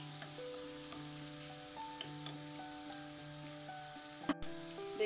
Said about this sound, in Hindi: देखू लहसुन कनी लाल होबऽ लागल